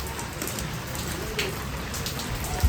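Rain pattering steadily on surfaces outdoors during a windy storm, a continuous wash of drops with occasional heavier taps and a bird cooing faintly in the background.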